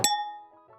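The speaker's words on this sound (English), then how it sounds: "don't forget to hit the notification bell to stay updated about our future uploads" A notification bell sound effect gives a single bright metallic ding that rings out and fades over a brief moment, alone and clean.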